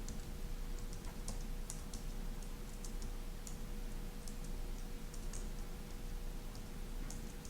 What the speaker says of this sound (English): Struggling to type today